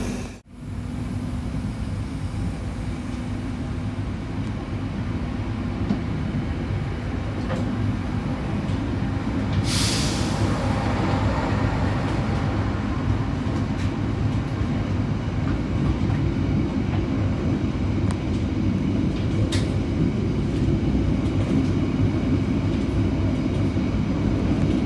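KA Mutiara Selatan passenger train rolls along with a steady, loud rumble and rail clatter, a sharp burst marking the KA Turangga train rushing past in the opposite direction, heard from on board.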